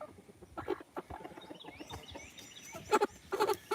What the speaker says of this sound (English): they hear a chicken raising sand